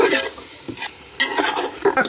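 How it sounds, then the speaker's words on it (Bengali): Meat going into a pot of fried spices for khichuri, with close stirring scrapes and bursts of sizzle in uneven clumps over a short stretch, no voices. "মশলা কষানো হয়েছে, এখন গোস্তটা দিয়ে বিসমিল্লাহ"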